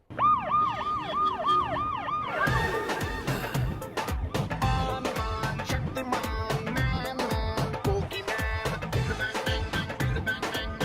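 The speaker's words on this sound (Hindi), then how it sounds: "सर की गाड़ी में सायरन लगाया" A car-mounted siren wails with rising and falling sweeps, then gives way to dense clattering street noise and rumbling traffic that continue loudly to the end.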